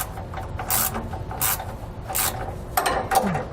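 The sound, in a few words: turning a bolt with a 15mm wrench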